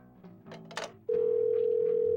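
Telephone in the Parasite Eve 2 video game: a few soft clicks and button tones, then a loud, steady, unbroken tone like a dial tone that holds to the end, with no talk.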